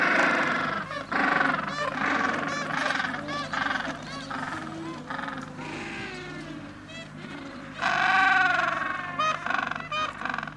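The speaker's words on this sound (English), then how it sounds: "you're also hearing the chicks. The chicks who are very hungry and they want to be fed by their parents." A large colony of hungry seabird chicks near an iceberg, calling to be fed; dense, overlapping honking cries fill the clip at close range, swelling loudly around the eighth second.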